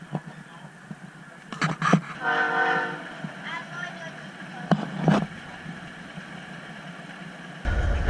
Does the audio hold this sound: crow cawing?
no